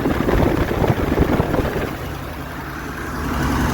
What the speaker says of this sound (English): that belt making a lot of noise